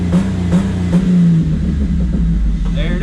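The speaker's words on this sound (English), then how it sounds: "let's go ahead and test out my new rev limiter" Close, loud revving of a car engine hitting a newly fitted rev limiter, with several sharp bursts near the start, then a sustained throttle drone and a falling tone near the end.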